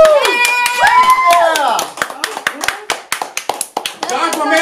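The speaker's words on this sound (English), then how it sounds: "Go ahead, everybody, clap for that." A small audience at a late-night talk show claps sharply and irregularly while voices whoop and cheer over it, the hand claps growing into a distinct quick run of close, loud strikes near the end.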